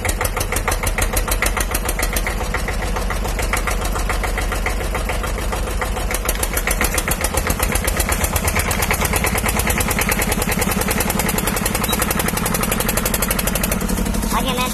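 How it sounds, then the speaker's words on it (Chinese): A small tractor engine drives along with a loud, steady rapid chugging and knocking that runs continuously, close up and dominating everything else. "所以我要开拖拉机回家啊。"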